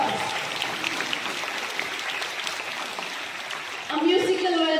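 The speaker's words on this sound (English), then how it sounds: "Please give him a huge round of applause." Audience applause welcoming a judge at a singing competition, steady crowd clapping that fills the space, with a voice and music-like tones rising near the end.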